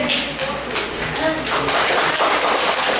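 A group in a room at a gathering claps together in a quick run of sharp taps that settles into steadier applause, with people talking under it.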